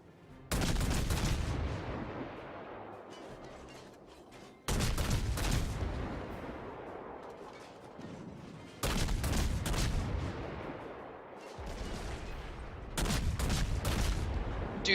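Naval gunfire in the World of Warships video game: four heavy, booming salvos spaced a few seconds apart, each a loud broadband blast that rolls off into a long rumbling tail, with no talking over it.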